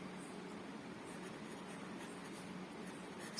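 A pen scratches faintly across paper while writing a journal entry, a soft continuous rustling scrawl heard close up in a quiet room with no voices.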